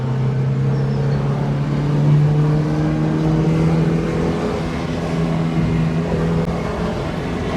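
A Mazda MX-5 NB facelift 1.8 litre engine accelerating from inside the car, a steady loud droning engine note climbing gradually in pitch with road noise, no talk over it.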